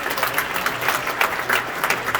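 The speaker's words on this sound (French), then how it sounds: "On continue d'applaudir Lucille Hadjilelovic." Brief burst of audience applause in a cinema after a film screening with the director present, many hands clapping in a steady, lively wash.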